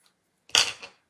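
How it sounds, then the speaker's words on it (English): A single crisp snip of scissors cutting through ribbon while making a stenciled card, one short close cut with a brief second slice right after, otherwise quiet. "Ribbon scissors."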